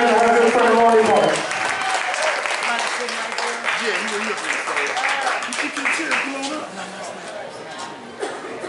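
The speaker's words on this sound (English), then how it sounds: "So let's make a big round of applause for our sister Avril Taylor." An audience applauds an honoree at a church-community review event. The clapping starts loud, then settles into a steady, slightly thinner applause under murmured chatter and a talking voice for the rest of the clip.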